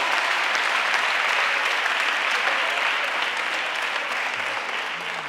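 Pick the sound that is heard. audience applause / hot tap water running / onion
audience applause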